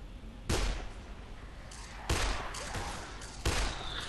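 Gunfire in the Dead Island video game, with three sharp, loud shots spaced about a second and a half apart over a steady background of game ambience.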